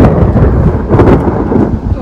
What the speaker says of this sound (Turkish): Şu an gök gürlemeye başladı.